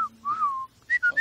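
Someone whistles a short, lilting Spanish tune: a few sliding notes, then quick separate pitches, close and alone.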